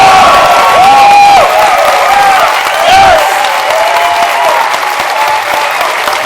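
A loud, dense wall of crowd applause mixed with whoops and cheers fills the space without pause at the MLS announcement awarding Minnesota United FC its expansion club, easing slightly toward the end.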